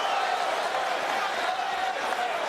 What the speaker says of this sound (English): And the crowd, a little buzz of acclaim for that from the home favourites.